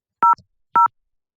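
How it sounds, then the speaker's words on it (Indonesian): Two short dual-tone keypad beeps from a VoIP softphone, 3CX dialing extension 200 on Zoiper; each tone is clean and steady, about a third of a second long, separated by a brief gap, with no talk. "Kita telepon dari 3CX ke Zoiper dengan nomor 200."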